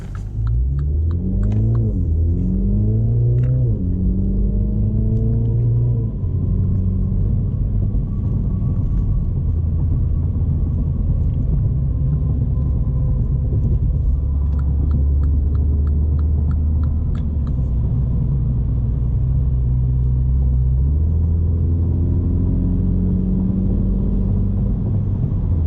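A 2020 Mini John Cooper Works Hardtop with an 8-speed automatic drives steadily, its engine note rising and falling through gear changes over a constant low road rumble and cabin hum, loud and close throughout.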